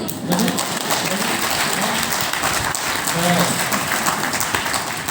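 Audience clapping at a Hindi spiritual discourse, a continuous patter of many hands under a hall's reverberant murmur, with birdlike cooing tones briefly rising through it.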